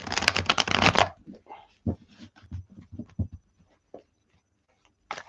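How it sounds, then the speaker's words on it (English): A deck of tarot cards is shuffled briskly up close in a dense riffling burst, followed by softer scattered card handling and taps, then one more short shuffle at the end. "I'm going to give these a good shuffle."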